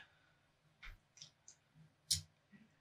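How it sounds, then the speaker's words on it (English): Computer mouse clicks, several faint, sharp taps spaced unevenly in a quiet room, one slightly louder than the rest, with no talking. "So we'll start by right clicking on here"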